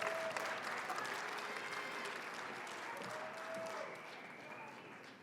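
An audience applauds continuously as graduates leave the stage at a spring graduation ceremony, a dense wash of clapping heard from some distance that slowly fades toward the end.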